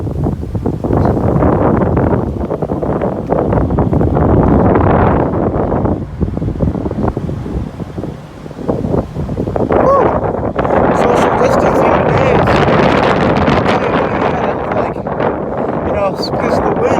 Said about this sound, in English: It's so windy that literally water is coming from that puddle onto my face.